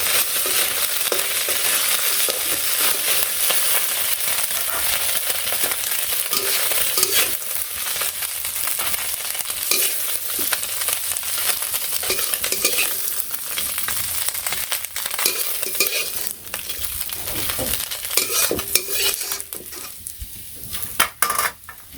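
Gajar and chorchori fish frying in hot oil in a pan, a loud continuous sizzle with occasional scraping and clinking of a utensil against the pan, no voices.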